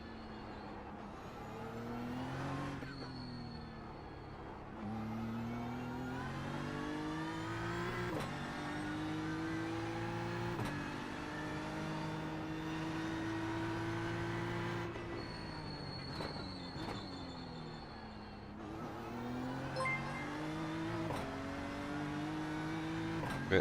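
A race car engine in a racing video game revs hard through repeated gear changes, each pitch climb ending in a sharp shift, with high whining tones over a steady loud drone and no talking.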